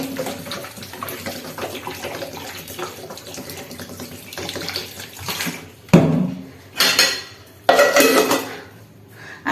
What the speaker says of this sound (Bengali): এখন ভাতে জল দিয়ে দিলাম